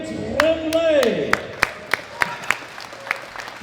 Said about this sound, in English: Big round of applause for Camille Tremblay